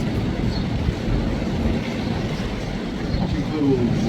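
Waves washing at high tide near moored boats on the Olongapo waterfront, a steady broadband wash with wind buffeting the microphone throughout, no distinct individual breakers standing out.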